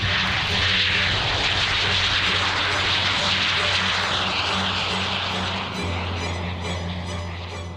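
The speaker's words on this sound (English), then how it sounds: "The Messerschmitt Me 262, the plane that could have changed the war." A Messerschmitt Me 262 jet aircraft engine gives a loud, sustained roar with a steady low hum throughout, close and continuous, with no talking.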